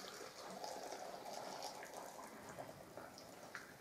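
Boiling filtered water pours from a kettle into glass jars packed with cut home-grown pumpkin, a steady close trickle and gush of filling liquid running alone for a few seconds.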